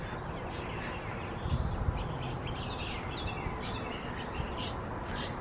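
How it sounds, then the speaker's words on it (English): Small birds chirp and tweet faintly in a springtime outdoor setting, thin high calls scattered over steady background noise with a brief low rumble midway. "Oh, bird babies."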